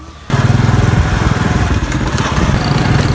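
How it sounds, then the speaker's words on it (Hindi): Tubewell pump engine running in a farm field beside paddy, a loud steady throbbing drone that kicks in abruptly after a brief quieter start and holds a rapid rhythmic chug throughout. "दोस्तों ट्यूबवेल ने जो है पानी उठा लिया है"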